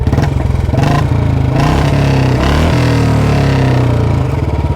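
Modified BS6 Royal Enfield Bullet 350 with a short Punjab-style exhaust, accelerating hard from 0 to 100 km/h: a loud, continuous thumping single-cylinder roar climbing through the gears with brief dips at shifts, close and alone.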